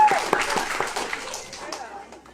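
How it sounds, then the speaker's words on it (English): A stand-up comedy audience claps in scattered, uneven bursts that fade over a couple of seconds, while a voice keeps talking over the applause. "Clap if you relate."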